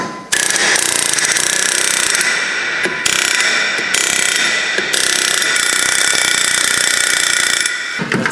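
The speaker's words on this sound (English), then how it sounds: "and the air hammer" A pneumatic air hammer pounds a rusty rear brake rotor on a 2008 Honda CR-V, close and loud. It makes a continuous rapid rattling clatter broken by a few short pauses.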